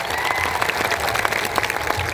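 An audience claps at a Birsa Munda 150th birth anniversary gathering, a brief burst of dense, steady applause with a faint murmur of crowd beneath.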